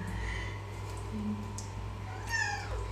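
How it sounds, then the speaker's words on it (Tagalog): A cat lets out a drawn-out meow while being bathed, close and fairly clear over a steady low electrical hum, with a second rising cry near the end. "Paligo ako ng pusa."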